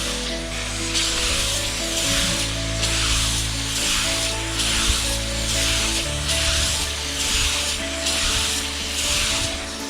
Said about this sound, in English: I like to scrub them really good.